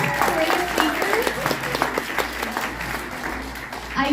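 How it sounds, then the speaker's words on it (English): Audience applause for speakers at a business expo, a steady wash of clapping filling the room with voices and cheering mixed in throughout. "Can we get another round of applause for those great speakers?"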